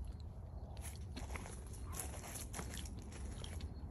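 A ripe fig with soft skin is bitten and chewed close to the microphone, with small crunchy seed crackles and wet mastication over a quiet background.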